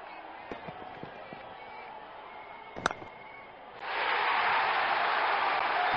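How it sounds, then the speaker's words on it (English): A cricket stadium crowd at an ILT20 2024 match roars loudly and steadily after a boundary, following quieter ambient murmur and a sharp thud; the cheering swells suddenly and holds at full volume. "Crowd is going crazy."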